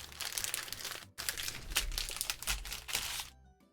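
A trading card pack wrapper is torn open and crumpled with loud, close, continuous crinkling and crackling, a brief pause about a second in, then fading to quiet at the end.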